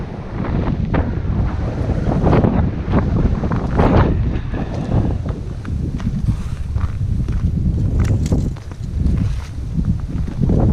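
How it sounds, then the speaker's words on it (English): Strong wind buffets the microphone in loud, rumbling gusts that rise and fall continuously, with a few faint footsteps or knocks beneath, outdoors at an abandoned hospital complex. "It's windy."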